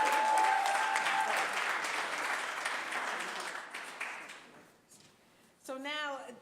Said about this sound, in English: Can we give Councilor Janey a round of applause?